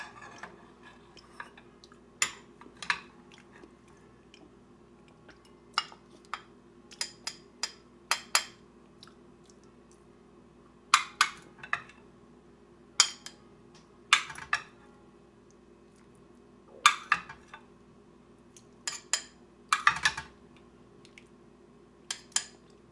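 Bowl, knife and utensils clink and clatter on a kitchen counter while stuffed green peppers with Mexican meat sauce are sliced: sharp, scattered taps and knocks, some in quick clusters, close by with no talking.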